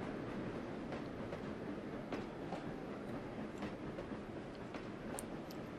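An LMS Coronation Scot steam train runs in the Trainz: A New Era railway simulator, its wheels clicking rhythmically over rail joints under a steady, moderately quiet rolling roar.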